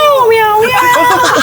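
A cat gives a loud, close, drawn-out meow that rises and falls, followed by a second wavering cry.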